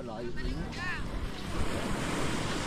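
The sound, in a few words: sea waves on the shore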